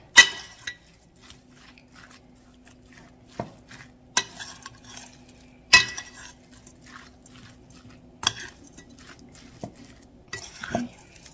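Meatloaf ingredients mixed in a bowl, soft squishing and stirring with occasional sharp clinks against the bowl, close and fairly quiet, no talking.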